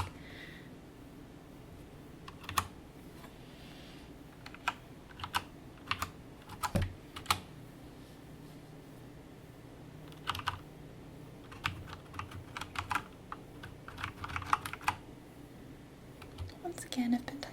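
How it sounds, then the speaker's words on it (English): Clicky keystrokes on a Corsair K70 Lux RGB mechanical keyboard come in irregular bursts and scattered single taps, close and quiet, with pauses between runs of typing. "Once again, I've been typing."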